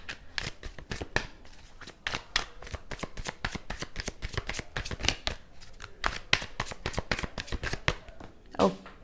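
Tarot cards being shuffled in a steady run of rapid riffling flicks, close and fairly quiet, with a louder slap near the end as cards drop together.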